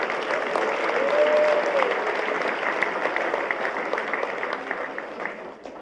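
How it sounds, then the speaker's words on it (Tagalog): An audience claps steadily at a formal signing ceremony, a dense sustained round of applause with a brief voice rising above it before the clapping tapers slightly at the end. "You clap your hands."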